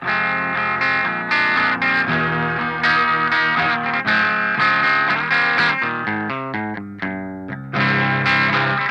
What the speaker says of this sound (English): The only other guitar that I used on the album was this one here, which is an Ibanez.